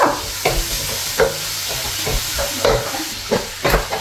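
Tomatoes for biryani fry in a pan with a steady sizzle, while a utensil stirs and scrapes them in repeated close, loud strokes; no speech.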